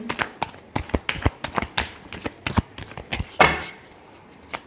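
A deck of tarot cards is shuffled by hand in quick, close riffling bursts, with one fuller riffle near the end, followed by a brief pause and a final tap.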